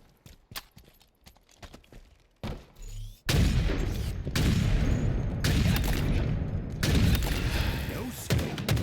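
Counter-Strike gunfire in a match: sharp clicks and shots at first, then a dense, loud run of rapid shots and blasts that continues for several seconds.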